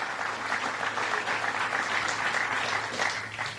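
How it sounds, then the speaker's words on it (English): A factory audience claps in a sustained round of applause during a Vice President's visit on small business, steady and fairly close throughout, fading slightly at the end. "Could you give him another round of applause?"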